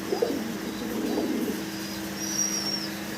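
Pigeons kept for sale give soft low coos in short rolling phrases near the start, then fade to quieter murmuring over faint background noise.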